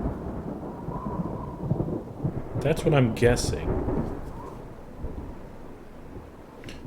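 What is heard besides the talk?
thunder after lightning strike in a video game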